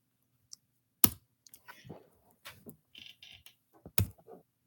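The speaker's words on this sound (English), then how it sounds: "I was typing on my computer." Computer keyboard typing, a few sharp key clicks and short bursts of keystrokes spaced irregularly, fairly close and alone with no speech.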